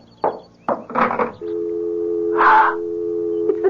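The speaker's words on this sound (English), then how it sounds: "It's the dial tone." A telephone dial tone hums steadily and loud after a handset is picked up, following a few clunks and rattles of the receiver, set in an old CBS radio mystery drama.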